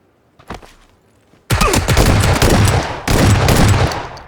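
Loud, rapid bursts of automatic gunfire in PUBG, a battle royale shooter, starting suddenly after a few faint shots and continuing in two long sustained volleys.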